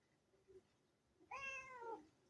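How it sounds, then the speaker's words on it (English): A cat that was caught in the rain lets out one drawn-out meow, close and fairly loud, after a short quiet stretch with a faint earlier squeak; no voices during the cry. "You mad at the kitty you're looking at?"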